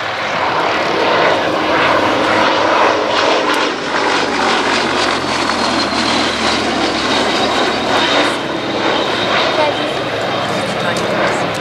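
Piston engine of an RAF biplane fighter, the last new biplane fighter and first with an enclosed cockpit, droning loud and steady overhead at Old Warden, with a voice talking over it throughout.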